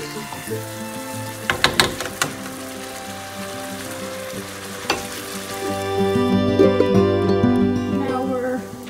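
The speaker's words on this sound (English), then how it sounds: "cover the lid and let it simmer, come to a quick boil" Chicken simmers and bubbles in a covered pot for Malay chicken biryani, a steady low bubbling broken by a few sharp clicks early on and growing fuller and busier toward the end.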